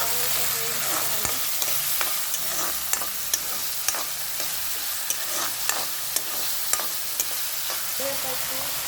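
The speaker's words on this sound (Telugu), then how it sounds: "ఆనియన్స్ వేసుకొని బాగా వేయించుకోవాలి." Sliced onions sizzle steadily in hot oil in a pan for a home-style tomato curry, with repeated sharp scrapes and clinks of a spoon stirring through them, close and continuous.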